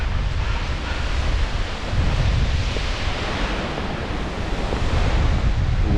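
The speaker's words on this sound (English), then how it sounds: "Wind is getting crazy." Strong, steady wind roars across a Catskill mountain summit on the Mt. Wittenberg hike, a loud continuous rush buffeting the microphone with gusty swells and no voices.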